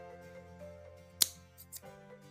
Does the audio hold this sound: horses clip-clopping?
no